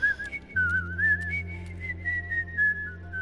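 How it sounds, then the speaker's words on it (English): Someone whistles a wavering, tuneful melody in The Wolf Among Us, close and clear over a low steady background hum, unbroken for about three seconds. "Don't fucking whistle out the door"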